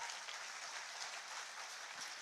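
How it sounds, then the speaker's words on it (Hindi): Loud, steady applause fills a ceremony hall in Jharkhand, where the Chief Minister hands appointment letters to newly appointed assistant teachers and a minister attends. The clapping from a large crowd is dense and continuous throughout. "तालियां आपकी ओर से जोरदार हो।"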